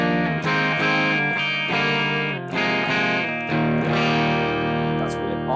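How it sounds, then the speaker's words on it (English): Electric guitar played through the boost side of an Electronic Audio Experiments Citadel Limelight pedal, set low, paired with a UA OX Stomp, giving sustained, lightly driven chords and notes that ring out steadily and loudly with a few short breaks. "And now, Limelight, just the boost."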